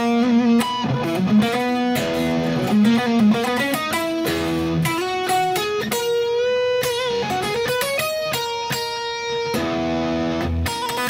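Bright Lydian-mode melody played over a sustained drone note, with a dense, busy run of notes and a slightly gritty, effected tone, continuous and loud throughout with no talking.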